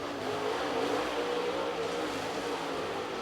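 Super late model race cars compete in a heat race at Cherokee Speedway, their engines roaring in a dense, continuous drone as the pack circles the track, loud and steady throughout.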